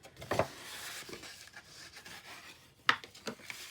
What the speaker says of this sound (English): So we can fold and burnish our score lines.